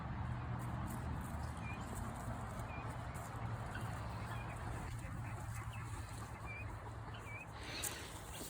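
Guinea fowl and other farm poultry call in the background, a few short, faint cries scattered over a steady outdoor hiss, with quiet talk nearby.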